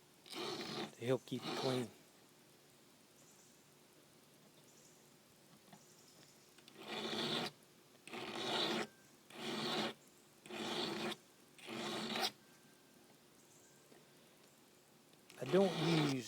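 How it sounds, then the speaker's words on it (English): Stiff file brush scrubbed across a metal file to clear filings, heard as several short raspy scrubbing strokes in a loose rhythm, close and fairly loud, with someone speaking briefly at the start and end. "you use a file brush to remove the little pieces of filing off of your file"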